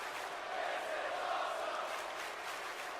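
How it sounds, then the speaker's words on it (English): A wrestling arena crowd chants in a Sasquatch video game match, a steady, distant roar of many voices that swells slightly midway and never breaks into clear words. "The crowd chanting,"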